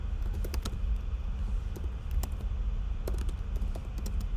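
Typing on a computer keyboard during video editing, a run of close, crisp key clicks in uneven bursts over a steady background hum.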